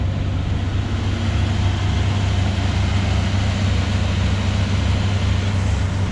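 Oldsmobile Cutlass Supreme with a freshly rebuilt Rochester carburetor idles high and steady, a continuous loud low rumble with no change in pitch and no voices.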